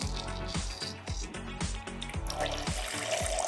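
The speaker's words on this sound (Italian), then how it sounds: "un goccio d'acqua" Water splashes as it is poured into a bowl holding raspberries, wasabi paste, extra-virgin olive oil and salt for a sauce. It sounds like a brief, steady trickle with rhythmic thumps beneath, fairly quiet and with no voices.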